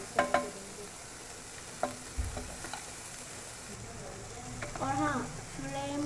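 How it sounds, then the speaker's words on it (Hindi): Chopped onions stirred over a low flame in a pan for peanut poha, giving a soft, faint sizzle with scattered scraping clicks from the spoon and a brief louder patch of stirring near the end. "जब तक प्याज का कलर चेंज नहीं हो जाता, जब तक हम उसे ऐसे ही हिलाते रहेंगे।"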